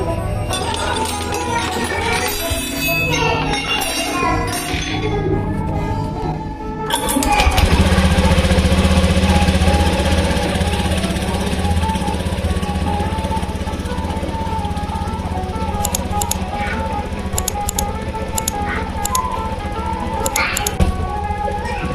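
A Honda Scoopy motorcycle fitted with a Vario 125 throttle body turns over and fires up about a third of the way in, then settles into a loud, steady, close idle with faint clinks over it.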